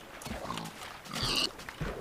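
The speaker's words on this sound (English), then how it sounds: "I'm going to kill these pigs first though." Pigs in Minecraft Beta 1.5 give short snuffling grunts in a few quick bursts, close and fairly quiet, with no talk over them.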